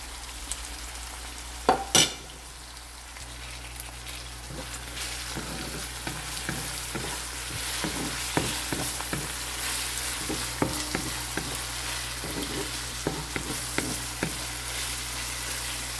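Garlic and sweet orange peppers fry in a pan for a cottage pie, a steady soft sizzle with intermittent stirring scrapes and clicks, quiet and close, with no talking.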